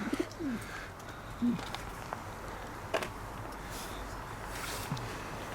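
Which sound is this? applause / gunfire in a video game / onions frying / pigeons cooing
pigeons cooing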